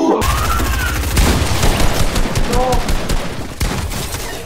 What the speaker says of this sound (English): I had three guys shooting at me.